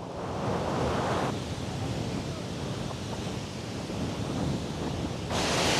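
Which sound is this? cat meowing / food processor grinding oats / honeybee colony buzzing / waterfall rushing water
waterfall rushing water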